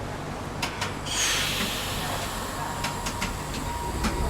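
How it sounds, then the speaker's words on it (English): A Melbourne tram rolls past with a broad rumbling wash and a few sharp metallic clicks and wheel ticks, moderately loud and steady for several seconds, without talk. "That sounds like a Melbourne tram to me."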